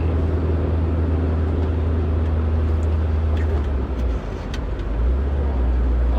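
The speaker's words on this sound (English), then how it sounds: "Can you hear that low hum? That's the sound of 35 miles an hour in fifth gear." A car engine drones low and steady at 35 mph in fifth gear, a continuous close rumble from inside the cabin with road noise and no talking.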